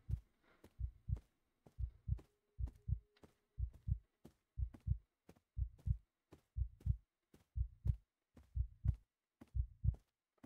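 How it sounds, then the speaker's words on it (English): Rhythmic heartbeat of a haunted house in a video game thumps steadily in close double beats, repeating evenly without talk. "Is that my heartbeat or somebody else's?"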